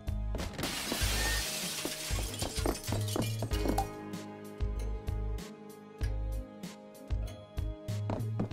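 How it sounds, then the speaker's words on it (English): Glass shattering in the video game The Sexy Brutale: a sharp crash of breaking glass opens, followed by a long scatter of clinking shards and sharp impacts that thin into sparse, separate clinks. "First time I can break glass outside of a story reason"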